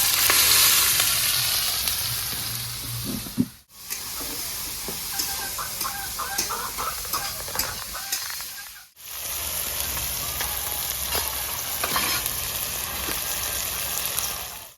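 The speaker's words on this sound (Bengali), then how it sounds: "পেঁয়াজটা আমার ভাজা হয়ে গেছে, লাল লাল হয়ে গেছে" Sliced onions frying in oil with dry red chillies, cinnamon, cloves and green cardamom for a rustic mutton and potato curry, a loud continuous close sizzle with stirring scrapes, briefly cut twice, and a rooster clucking faintly in the background.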